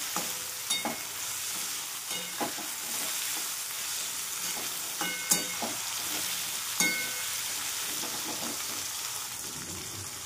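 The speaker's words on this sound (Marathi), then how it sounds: "मस्त फ्राय करायचं तेलात आणि मिठात। त्याला फ्राय केले शेंगाला" Drumstick pods frying in oil with salt, giving a steady close sizzle with occasional louder pops and stirring scrapes, and no talking.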